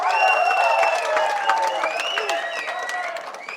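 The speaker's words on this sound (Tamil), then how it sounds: "பலமான கரகோஷம் மக்கள் நாயகருக்கு." Crowd applause at a stage event for Tamil actor Ramarajan, with dense clapping that persists under a faint melodic tone and a voice through a PA system, steady and moderately loud.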